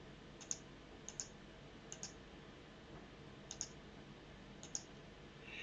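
Computer mouse clicks while selecting options in business software: five sharp, faint clicks, some in quick pairs, spaced about a second apart over a quiet background hiss.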